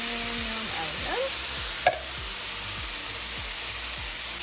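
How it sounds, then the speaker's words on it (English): Chickpeas frying in a pan with garlic and onions, a steady, moderately quiet sizzle with a few soft stirring scrapes and one brief clink. "Now that the chickpeas are cooking"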